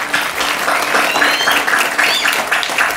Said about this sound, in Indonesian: tepuk tangan untuk pondok pesantren